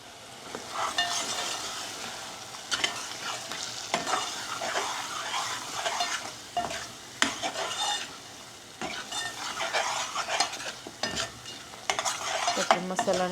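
Spices (masala) fry in a pan while a utensil stirs them, giving a steady sizzle broken by repeated scraping strokes and metallic clinks, close and fairly loud, with no talking.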